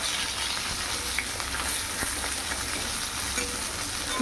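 Fish frying hard in a pan of oil for a curry, a steady dense crackling sizzle that stays close and even throughout, with no voices over it.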